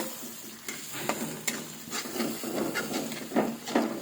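Spice paste being stir-fried in a pan for a sour dish of brinjal, potato and hog plum: soft sizzling under repeated scraping strokes of a spatula, close and moderately quiet, no voices.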